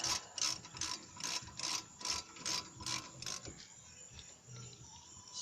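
A tool tightens the brake caliper bolts on a Honda Civic during a front brake pad job, making a quick series of about eight close, rhythmic ratcheting clicks that then stop, leaving faint rustling.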